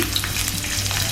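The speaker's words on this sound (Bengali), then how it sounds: "তেলটা গরম হয়ে গেছে, আমি এখন পেঁয়াজ কুচি দিয়ে দিচ্ছি" Chopped onions drop into hot oil in a wok while cooking prawns with water lily stems, giving a steady, close hiss of frying with stirring scrapes and no talking.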